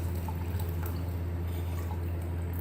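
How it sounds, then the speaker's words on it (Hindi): Plum water is poured into a pot while making plum and tamarind sharbat, giving a steady, close trickle and splash of liquid that runs continuously with no voices. "तो मैं इसको सिर्फ इसका पानी बीच में डाल रही हूँ"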